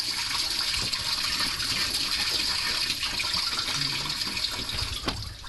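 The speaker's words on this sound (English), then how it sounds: "take and remove the radiator cap, and it'll allow it to flow out a little bit faster" Engine coolant draining from the radiator of a GM Vortec 5.7 350 V8 with the radiator cap removed, a steady loud gushing splash of liquid pouring out continuously throughout.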